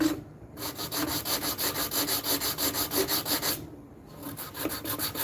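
Sanding on a wooden mallet head makes rapid, even back-and-forth rubbing strokes, close and steady, broken by a short pause before the rhythm resumes.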